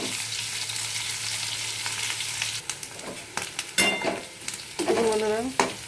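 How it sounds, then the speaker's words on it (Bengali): Chopped onion and potato fry in a pan with a close, steady sizzle at first, then a run of sharp spatula scrapes and stirring knocks. Near the end comes a brief squeaky rising tone. No speech. "পেঁয়াজের সঙ্গে আলুটা একটু লাল লাল করে ভাজবো"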